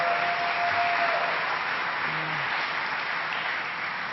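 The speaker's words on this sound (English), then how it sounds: "Let's give him a round of applause." Soft, steady applause from a crowd at a gun legislation signing event, heard at a distance and fairly quiet throughout.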